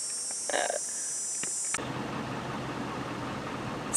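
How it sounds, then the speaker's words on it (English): A truck engine idles with a steady low rumble while boosting a tractor on a homestead building a sheep pasture fence, starting abruptly after a quieter moment with brief knocks and continuing at a moderate level. "we're boosting the tractor with the truck"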